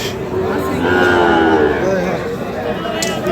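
Sahiwal bull calves moo loudly at the Ambari cattle market, one long drawn-out call rising over a constant murmur of crowd and nearby talking voices.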